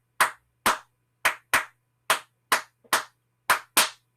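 Sharp hand claps tapping out a syncopated clave pattern, two phrases of five claps, crisp and close with no voices.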